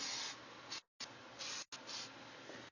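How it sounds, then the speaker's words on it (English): Matte finish spray paint hisses from an aerosol can onto a 1/6 scale TMNT figure in three quick bursts separated by short silences, close and fairly soft. "Shake up your matte finish. And"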